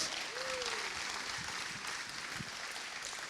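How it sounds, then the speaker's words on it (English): Steady applause from a crowd at the BredaPhoto 2020 opening, a continuous wash of clapping held at an even level throughout. "And also applause for Sjoerd."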